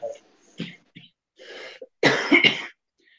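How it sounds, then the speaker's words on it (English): An elderly man coughs and clears his throat in a few rough, close bursts separated by short pauses, ending in a harder double cough. "I wish I could get rid of this flaming cough."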